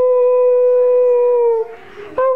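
A dog howls in a long sustained wail that wavers slightly, breaks off briefly into a rougher whimper, then resumes the howl; loud and close, with no talk.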